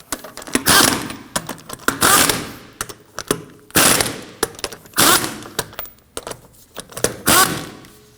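A power tool, likely an impact wrench, snugs the rear sway bar link nuts on a 2003-2006 Subaru Baja, firing in short loud rattling bursts with brief pauses between them and no talk.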